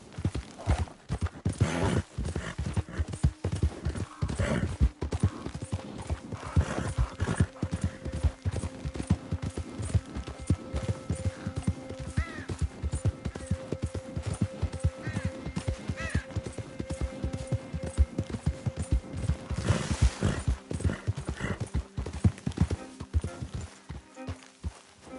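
Horse hooves clip-clopping at a steady trotting rhythm while riding in the video game Red Dead Redemption 2, close and continuous, with an occasional faint snort and brief moments of talk.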